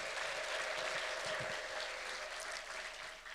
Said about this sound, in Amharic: እልልታና ጭብጨባ ለእግዚአብሔር አምጡ።